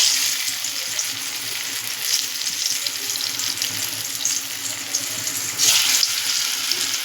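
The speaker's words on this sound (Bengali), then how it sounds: "এবার আমি ধোকাগুলো মিডিয়াম আঁচে রেখে ভেজে নেব।" Lentil cakes (dhoka) fry in oil in a kadai over medium heat, giving a steady, close sizzle with light crackle throughout and no voices.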